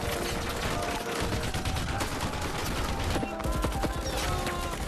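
A film battle scene after an RPG strike carries dense, continuous gunfire, with overlapping bursts and rattling shots loud and unbroken throughout.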